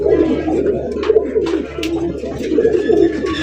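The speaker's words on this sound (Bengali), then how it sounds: "কবুতর দেখেন, মাশাআল্লাহ" Fancy pigeons on a breeder's farm make a continuous, close, low cooing chorus, with a few brief higher chirps and flutters mixed in.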